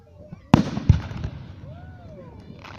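Fireworks burst nearby at a public display, two sharp booms in quick succession followed by a fading crackle and whistling trails, with people chatting softly around them.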